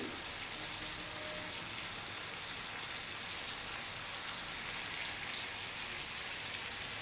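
Spiced oil tempering (phodni) for dhokla sizzles steadily in a pan, a dense, even crackling hiss that holds at moderate level throughout with no voices.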